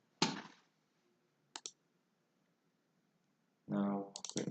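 A few mouse clicks on a computer running fluid simulation software, heard as two short bursts early and a denser cluster of clicks near the end, close and clear against silence.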